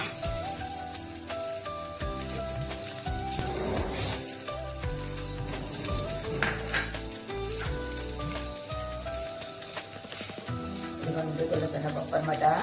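Roasted chana dal fries in oil in a pan, giving a steady, close sizzle with stirring scrapes throughout, and music plays underneath.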